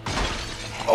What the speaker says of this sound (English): Too much glass breaking around me.